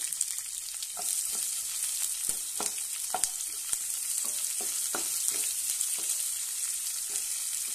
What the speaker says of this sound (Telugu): తాలింపు గింజలు వేగిన తర్వాత ఉల్లిపాయలు వేసుకున్నామండి